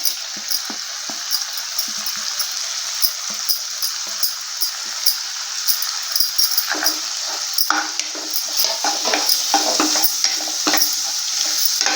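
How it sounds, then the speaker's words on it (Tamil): Chili powder, coriander powder and turmeric sizzling as they are stirred in hot oil for a shark fish curry, a loud continuous fry with frequent scraping stirs, close up and with no talk. "லேசாக எண்ணெயில் இப்படி பரட்டி விட்டுறலாம்"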